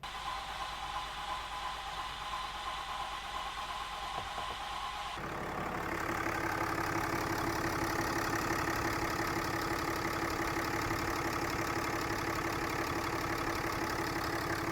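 A 6.7 Cummins diesel truck engine cranks and fires up partway through, then settles into a steady, loud, close idle with a low rumble and light knocking clatter.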